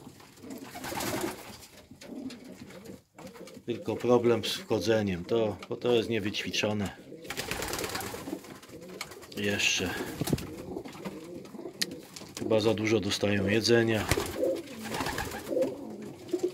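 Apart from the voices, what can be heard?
homing pigeons cooing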